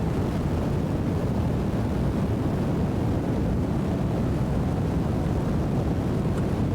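Rocket engines roar just after liftoff in Kerbal Space Program 2, a dense, steady broadband rumble holding at constant loudness throughout with no pauses.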